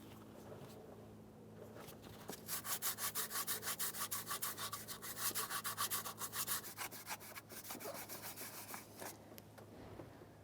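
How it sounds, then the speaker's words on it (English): Sandpaper scrubs the engine surface near the knock sensor on a 2004-2015 Nissan Titan in quick rhythmic back-and-forth strokes, close and fairly loud for several seconds, then slowing and fading. "Now that we have the first side sanded down"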